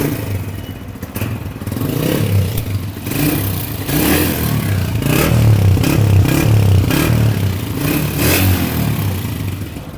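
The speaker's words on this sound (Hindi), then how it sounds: "अभी हम बाइक का साउंड चेक करते हैं।" A Honda CB 125F motorcycle engine idles and revs steadily after tuning, a loud, continuous close-up running sound with some clatter and scraping texture, no speech.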